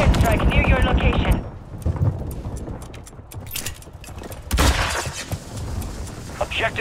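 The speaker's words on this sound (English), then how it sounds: "Hostile airstrike near your location." Airstrike explosions in Call of Duty Modern Warfare 3, heavy booming blasts and gunfire rumbling in waves, loud and near, with radio-style voices talking over parts of the din.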